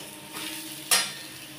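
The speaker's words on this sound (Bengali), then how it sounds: "এটাকে আমি ভালো করে নেড়ে নেব" Fried potato and pointed gourd with poppy seeds get stirred in a pan, a low frying sizzle under one sharp, close scrape of the spatula near the middle.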